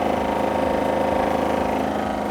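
A KWM12000-3 portable generator engine runs steadily at idle, a close, continuous low mechanical drone with a constant even level throughout and no voices.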